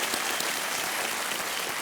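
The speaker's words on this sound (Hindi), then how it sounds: "तालियों के साथ" A studio audience on the quiz show Kaun Banega Crorepati bursts into steady, dense applause to welcome a contestant. The clapping is loud and sustained throughout, with no voices over it.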